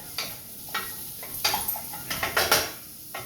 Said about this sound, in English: While you're listening to that sizzle